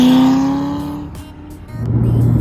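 A C6 Corvette ZR1 engine, four exhaust pipes with the centre pair valved, revs loudly and eases off before building again with a deep rumble, nearby and with no talking.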